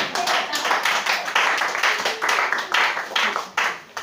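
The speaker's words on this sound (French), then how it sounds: "Acclamez Jésus pour moi." A church congregation clapping and applauding together, a dense, continuous burst of many hands at close range with rhythmic pulses throughout, a few voices faintly mixed in.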